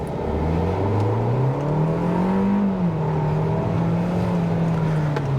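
A turbocharged 2024 Kia Seltos compact crossover accelerates hard in sport mode, its engine note climbing steadily in pitch, briefly dipping at a shift, then holding a loud, close, even drone.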